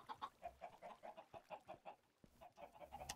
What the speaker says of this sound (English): Chicken sound good.